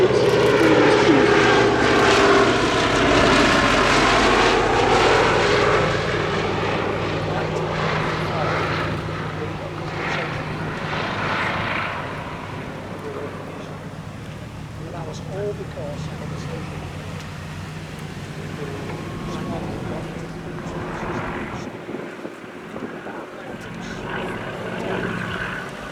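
Fairey Swordfish Mk1 biplane flying a display at the Shuttleworth Military Air Show, its piston engine droning loudly at first and then fading slowly as it moves away, with a voice talking throughout.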